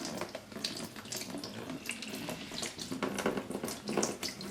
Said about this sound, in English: Okay, so now we're draining the coolant.